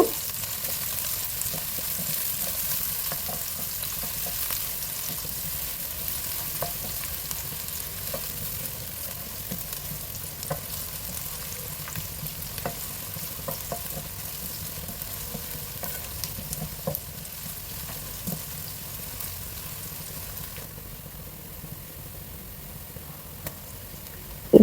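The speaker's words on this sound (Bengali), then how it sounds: "রান্নার তেল তেলটা গরম হয়ে গেছে পেঁয়াজ কুচি দিয়ে দিলাম এখন পেঁয়াজটাকে একটু ভেজে নিব" Chopped onions fry in hot regular cooking oil for a thin khichuri, a steady close sizzle throughout with occasional sharp clicks of stirring and no talking.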